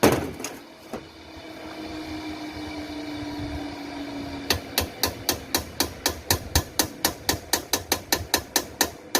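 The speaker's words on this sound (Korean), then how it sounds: "여기를 약간 망치로 충격을 줘서 유림을 해야 됩니다." Repeated hammer taps strike the cover of a long-neglected pressure sprayer motor to free a stuck screw, about twenty sharp, evenly spaced metallic knocks arriving fast and close, following a steady motor hum.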